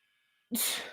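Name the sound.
stifled attempt to sneeze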